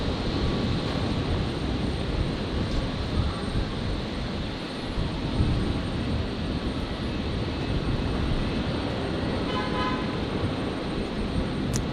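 A Virgin Boeing 737 jet arriving from Queenstown on runway 01 right at Brisbane Airport, a sustained loud engine roar with a thin high whine, steady throughout and unaccompanied by speech.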